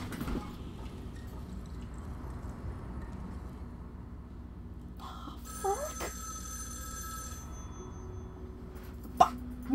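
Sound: telephone ringing

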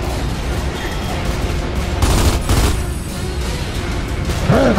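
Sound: sniper rifle shots in video game Gears of War 2

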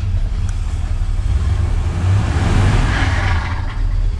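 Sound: 1977 C10 small-block V8 engine running with bearing rattle

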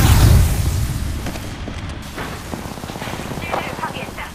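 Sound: grenade explosion in the video game Apex Legends

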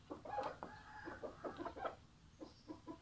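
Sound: fighting rooster clucking

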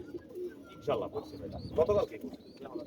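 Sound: pigeons cooing

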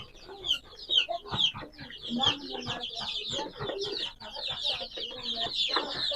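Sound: desi chickens clucking on a poultry farm

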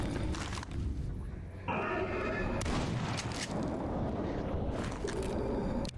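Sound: gunshot in video game S.T.A.L.K.E.R. Anomaly

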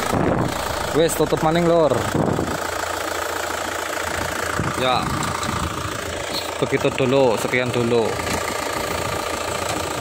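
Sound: Isuzu Panther LM 2003 engine idling

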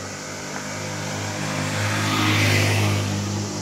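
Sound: car idling, rolling downhill

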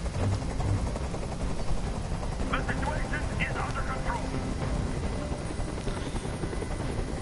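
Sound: helicopter noise in a video game

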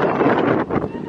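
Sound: wind

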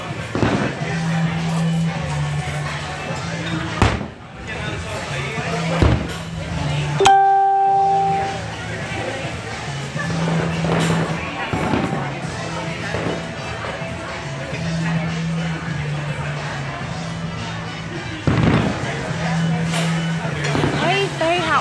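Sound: fireworks at Downtown Disney

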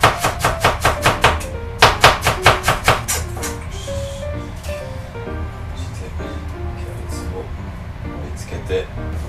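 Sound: knife chopping cabbage

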